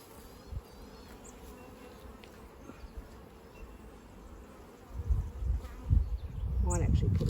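Honey bees drone in a soft, constant buzz around an open hive during an inspection, faint under quiet talk, with rustling and handling noises growing louder near the end.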